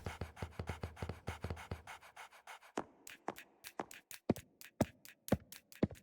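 A dog in a video game pants in quick rhythmic breaths, first in a dense fast run, then in slower, sharper, more spaced puffs, close and clear with no voices over it.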